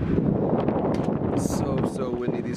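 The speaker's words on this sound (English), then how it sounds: "so windy. These clouds are moving so fast." Gusty wind buffets the microphone in a steady low roar, with a brief hiss of stronger gusts partway through.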